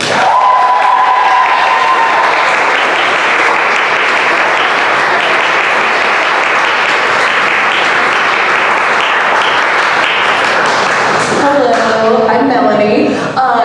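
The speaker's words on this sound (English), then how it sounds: "Can we play a round of applause for Melanie Gilman?" An audience applauds for the cartoonist Melanie Gilman at a comics event, a loud, dense wash of clapping with some cheering that stays steady throughout, while a voice speaks over the start and end.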